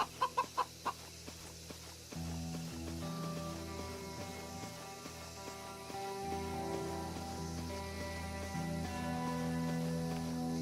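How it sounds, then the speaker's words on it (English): Chickens clucking by the chicken coops in the video game The Church in the Darkness, soft repeated clucks under a sustained ambient music bed, with a few sharp clicks at the start and no talk. "Back by the chicken coops."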